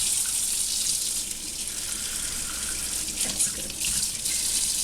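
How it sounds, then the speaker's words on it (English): Lukewarm water runs steadily from a kitchen sink tap as African violet leaves are rinsed under it, a loud continuous gushing stream with a brief spoken remark over it. "I'm washing them in the kitchen sink. And the water should be lukewarm."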